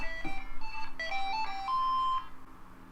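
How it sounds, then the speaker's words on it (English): A phone ringtone playing a short melodic video-game tune, a series of bright electronic notes rising and stepping over about two seconds, fairly clear with no talking over it. "That was my ringtone, yes."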